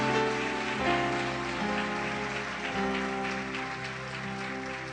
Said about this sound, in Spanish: Entonces denle un aplauso a Dios si es sobrenatural.